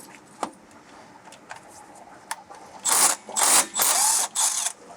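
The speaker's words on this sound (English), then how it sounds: "First thing I'm gonna do is take off all of these bolts," Power tool, likely an impact gun, removing differential cover bolts on a 1998 Jeep Grand Cherokee 5.9, heard as four loud close bursts in the second half after quieter handling clatter.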